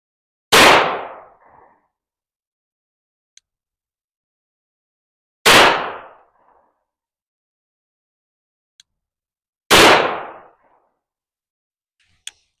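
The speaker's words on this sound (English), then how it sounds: "I think probably first I'll shoot a 3-round group and see what kind of accuracy we're getting out of it" Three loud, sharp gunshots from a Glock 17 Gen 6 pistol, spaced about five seconds apart, each with a brief echoing tail, separated by near silence and faint clicks.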